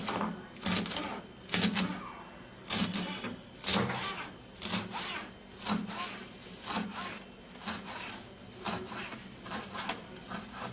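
A knife dices food on a cutting board in a steady rhythm of about a dozen crisp chopping strokes, close and fairly quiet, with no voices.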